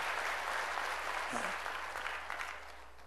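Steady, dense clapping from a church congregation filling the whole stretch, loud and continuous, with a brief voice rising through it midway.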